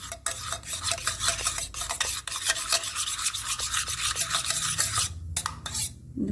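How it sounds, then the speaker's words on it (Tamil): Vanilla custard powder being stirred into milk with a spoon, a quick continuous scraping and clinking against the bowl, close and busy, pausing briefly near the end. "அதை இதில் போட்டு கட்டி தட்டாமல் நல்லா மிக்ஸ் பண்ணி விட்டுக்கோங்க"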